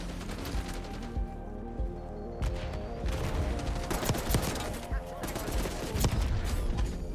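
Submachine gun fire in Call of Duty Black Ops 6: rapid automatic bursts, loud and close, some long and some short, broken by brief pauses, with a voice speaking over parts of the shooting.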